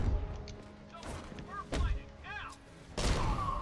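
Gunfire in Batman Arkham Knight arrives as a few heavy bursts and thuds spread unevenly, some loud and close, mixed with game effects and a voice speaking over the action.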